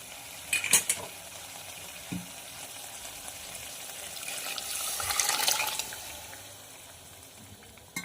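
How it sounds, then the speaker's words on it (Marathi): Chicken frying in a pan with a steady sizzle, as cooking water saved from boiling the chicken is poured in, with a short clatter near the start and the hiss swelling midway before easing. "यावर आता आपण गरजेनुसार पाणी घालणार आहोत जे आपण चिकन बॉईल केलं होतं तेच पाणी घालायचं आहे"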